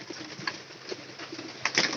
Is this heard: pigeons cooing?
yes